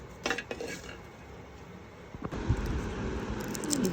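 Fried jackfruit seeds being served onto a plate: scattered clinks and scrapes of a utensil against the dish, with a few sharper knocks over a steady background hiss and no talking.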